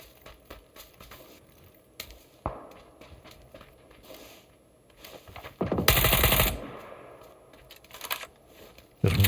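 Gunfire rattles through a video game, mostly muffled rapid shots with one loud, dense blast midway and a sudden burst at the end, mixed with keyboard clatter close by.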